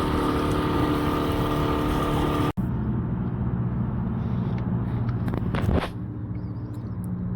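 A motorboat engine drones loudly and steadily near Annapolis, with an abrupt break partway through, after which the engine continues a little quieter and more distant over wind noise.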